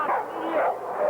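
Dogs entered in a weight-pulling competition yip and bark in short excited bursts, fairly close, with a whimpering edge and no talk over them.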